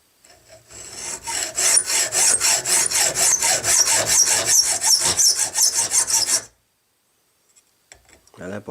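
A hand file rasps across a metal screw head to cut a screwdriver slot for a handmade crossbow part, with steady rapid back-and-forth strokes for about six seconds, loud and close, then silence.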